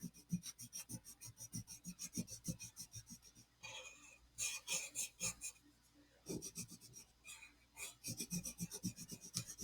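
Close, scratchy rasping of a colored pencil shading on paper in quick back-and-forth strokes, with brief pauses between bursts.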